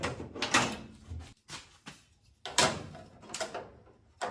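A Chevy Nova's door is worked open during drip rail repair, giving a series of close metallic clunks and knocks with short quiet gaps between them.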